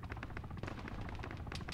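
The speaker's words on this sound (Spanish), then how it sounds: "Me disparan." Rapid gunshots ring out in the Arma 3 Altis Life video game as a dense, fast string of faint, distant-sounding reports over a rumbling backdrop.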